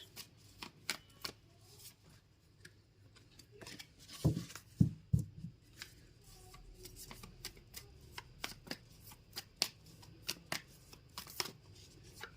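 Tarot cards being shuffled during a reading, a quiet run of crisp riffling flutters and soft slaps in irregular bursts, close by with no talking.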